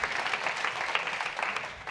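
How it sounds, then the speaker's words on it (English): Audience applause for a computer vision team after a talk at an open-source event, steady dense clapping from a crowd throughout, fairly loud and continuous. "I just want to give the CV team kind of like a round of applause"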